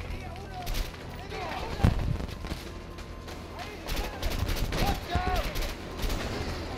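Repeated gunfire from the video game A Way Out comes in irregular bursts, loud and close, with sharp cracks scattered across the clip and a voice talking now and then.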